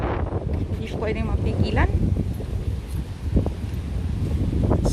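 Strong wind at the Maspalomas beach dunes on Gran Canaria buffets the microphone as a constant low roar and rumble, with a voice talking briefly near the start over it.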